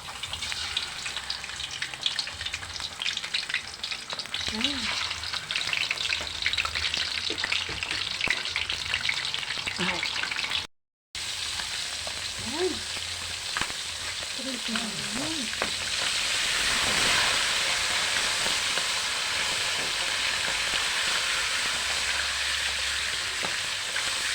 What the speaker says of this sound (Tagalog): Iprito muna natin.